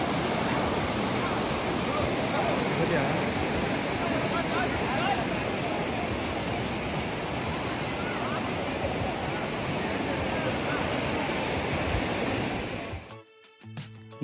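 Arjunan waterfall, one of several cascades in a forest setting, roars as a loud, steady broadband rush of falling water close by, cutting off abruptly near the end.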